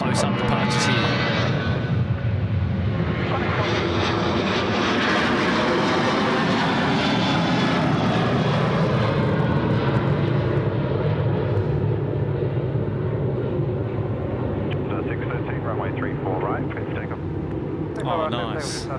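A jet airliner departing from a Sydney Airport runway roars up close, loud and continuous, with the engine pitch shifting as it climbs away while people talk over it.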